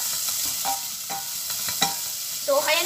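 Food frying in a little olive oil for shrimp with squash and string beans in coconut milk sizzles steadily up close while a utensil stirs and scrapes through it in repeated strokes.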